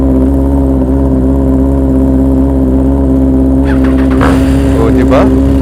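A Triumph Trident 660 motorcycle engine idles loud and close with a steady mechanical ticking hum, and voices talk over it toward the end.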